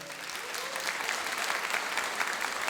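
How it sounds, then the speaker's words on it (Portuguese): A church audience applauds at a Catholic worship and praise night, a steady wash of clapping filling the room at moderate volume, with no voices standing out. "Uma salva de palmas para ela."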